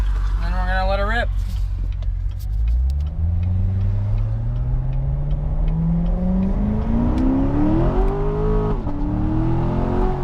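A car accelerates hard from a complete stop, its engine note climbing steadily through a long rising rev with a brief dip near the end, loud and close from inside, with a voice briefly heard at the start.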